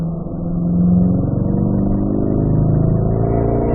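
A car engine accelerating while driving a course, a loud close drone that rises smoothly in pitch and holds strong throughout with no talk.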